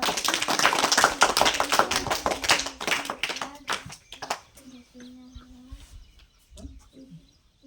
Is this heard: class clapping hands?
yes